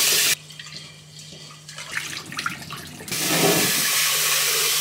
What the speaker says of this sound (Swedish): Det står ju bara skölj riset noga i kallt vatten.